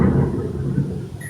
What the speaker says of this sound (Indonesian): Petir, betul. Di sini hujan deras, Kak.